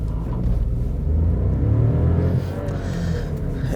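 An Audi A1 CityCarver 30 TFSI pulls away from a junction, its small petrol engine revving up in a loud, continuous rising drone that is heard from inside the car with no talk.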